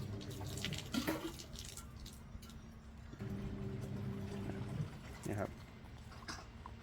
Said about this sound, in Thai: กอครบ5นาทีเดี๋ยวมาเทน้ำทิ้งนะครับ